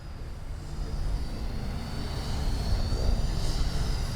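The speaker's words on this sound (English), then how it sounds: "I'm going to show you how slow this thing can fly." A HobbyKing Viper 64 RC jet flies slowly past with its flaps down, producing a steady, loud turbine roar and whine that swells slightly as it goes by, with wind noise underneath.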